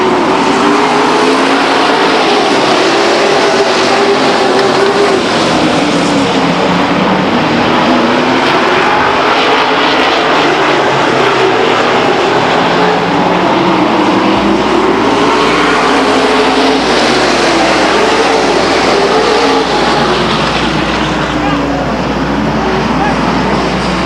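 Grand Am race cars roar continuously around Stockton 99 Speedway, a loud, unbroken engine drone that swells and fades as cars pass, with no clear talk.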